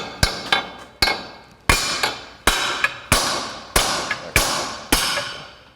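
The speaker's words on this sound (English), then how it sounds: "I'd hit it right here with the hammer." A hammer knocks repeatedly on the pillar trim of a 2006 Mini Cooper JCW, landing roughly a dozen sharp, close blows in a fairly regular rhythm, some coming in quick pairs.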